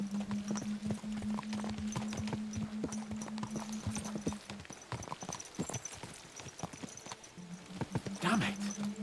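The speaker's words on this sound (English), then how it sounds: "Let's really spur these horses on, eh?" Horse hooves clip-clop steadily in the video game Kingdom Come Deliverance II as mounts are spurred on, a close, continuous rhythmic beat with a brief whinny-like cry near the end and a droning tone underneath.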